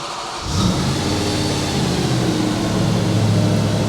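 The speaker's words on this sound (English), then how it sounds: "maybe we should just start the engine" An Audi RS4 engine cranks and catches about half a second in, then settles into a steady close idle that rises slightly toward the end.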